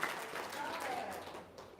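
Audience clapping fills a short stretch at a comedy-style show in Indonesia, a steady dense patter of many hands, moderately near and fairly even, fading slightly toward the end with no talk over it.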